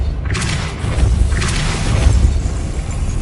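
A Depulso spell cast in the Harry Potter Hogwarts video game releases a whooshing, booming burst, with two heavy thumping swells about a second apart over a steady low rumble.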